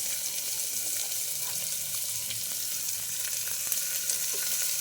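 Cashews, onion, beans and carrot fry in a hot pan with a steady, close hiss and crackle, a continuous sizzle with occasional small pops and no talking.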